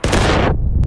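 A loud, close musket volley from a line of Civil War infantry in the video game War of Rights erupts in a dense crackling blast, then quickly fades into a rolling rumble.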